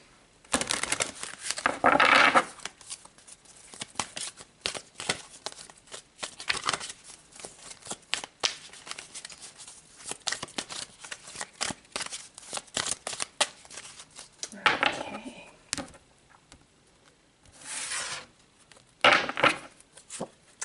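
Tarot cards are shuffled and pulled: repeated crisp riffling and flicking close by, in bursts with short pauses, no talking.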